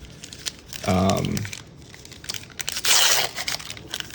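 Plastic wrapping on a pack of Lord of the Rings Magic: The Gathering cards crinkles and tears up close in two loud bursts, with quieter handling rustles between and a voice briefly present.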